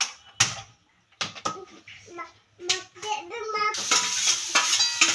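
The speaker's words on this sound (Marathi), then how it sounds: "पनीर इकडे आपण परतून घ्यायचे." Paneer stirred and fried in a masala with turmeric in a pan, giving scraping spoon strokes and clatter in bursts, then a steadier close sizzle toward the end; no talking.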